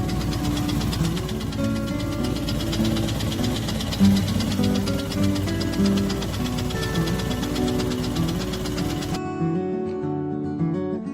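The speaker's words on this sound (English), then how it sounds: "my motorcycle began making noise that I suspected would probably mean the end of my trip" A Harley-Davidson motorcycle engine runs steadily with a mechanical knocking rattle from an engine fault, loud and close throughout, cutting out near the end as the noise drops away.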